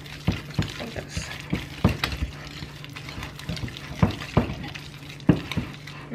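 A spoon stirs and mixes ingredients in a bowl with a pinch of salt for keto fried cheese ravioli, giving repeated scraping clinks and soft wet mixing sounds at an uneven rhythm, close and moderately loud.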